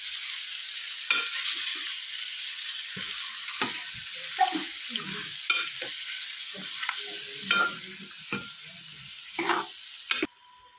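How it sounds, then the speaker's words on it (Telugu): Country chicken frying in oil and being stirred, a constant hissing sizzle with repeated clanks and scrapes of a spoon in the pan, close up, ending abruptly. "ఇప్పుడు క్యాప్ పెట్టి నూనెలో 10 నిమిషాల పాటు వేయించుకోవాలి."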